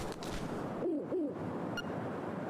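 Two quick, soft hoots from the owl in the Link's Awakening video game, low in level beneath steady background music, followed by a brief chime.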